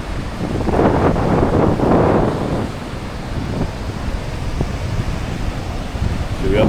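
Gusty seaside wind rushes across a Latvian coast, blowing steadily against the microphone with a broad roar that swells early and then settles into a constant hiss.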